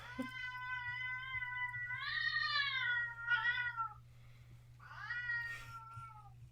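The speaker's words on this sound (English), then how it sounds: "I have a hangry diabetic cat who is gigantic and has also a very large voice." A gigantic diabetic cat meows loudly and insistently for food, several drawn-out, wavering cries in a row, close to the microphone over a low steady hum.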